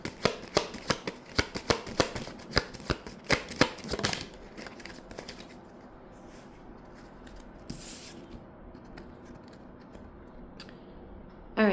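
Tarot cards shuffled by hand: a rapid burst of crisp riffling slaps for about four seconds, then softer sliding and shuffling of the deck with a few scattered flicks, close up and alone without talk.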